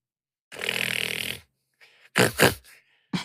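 Loud snoring behind a door in a tabletop role-play adventure, voiced by a person imitating it: one long rasping snore, then a few shorter snorting bursts after a short pause.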